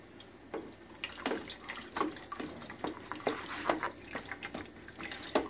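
Kefir liquid strains through a strainer, giving faint, irregular dripping and trickling splashes close by, scattered in quick succession.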